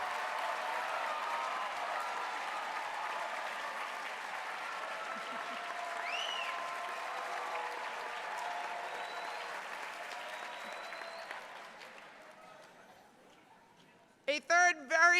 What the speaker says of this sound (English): please give a huge round of applause to all the technical people in your shows